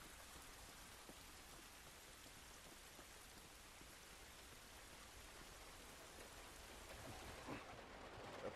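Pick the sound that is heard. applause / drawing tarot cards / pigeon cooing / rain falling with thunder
rain falling with thunder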